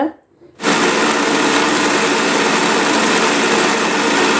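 An electric blender runs steadily, mixing muskmelon juice with milk, a loud continuous whirring motor drone that starts abruptly after a brief quiet moment and holds without pause.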